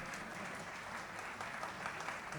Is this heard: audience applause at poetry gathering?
yes